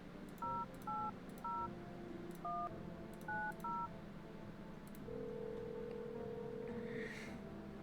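Phone keypad tones beep through a sequence of about eight distinct presses in the video game No, I'm not a Human, followed by a long steady dial tone, quiet and clear with no talk.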